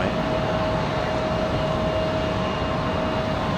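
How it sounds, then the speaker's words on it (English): An Air Canada airliner bound for Montreal taxis out to the runway end at Raleigh-Durham International on a windy day, a steady jet engine rumble with a thin whine, constant and moderately loud throughout. "Air Canada to Montreal makes their way out to the end of the runway"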